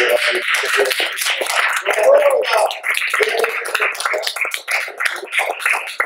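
A church congregation applauds, lively clapping from many hands mixed with voices and cheering, fairly close and loud.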